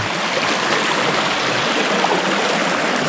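A waterfall on the slope of Mount Merbabu in Boyolali gives off a steady, dense rushing roar that fills the whole moment without letup.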